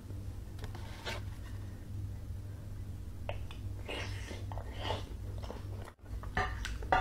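Close, quiet chewing of a final mouthful of raw seafood at a mukbang meal, soft wet bites and smacks continuing for several seconds with no talking.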